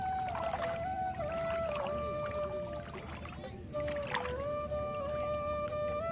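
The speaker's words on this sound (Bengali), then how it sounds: "দেখেন এই নৌকা প্রায় ধাক্কায় ধাক্কায় প্রায় নিয়ে আসছে" A boat is pushed along through Jamuna river water, giving a steady close wash of water against the hull with a thin whining tone drifting above it and no talk.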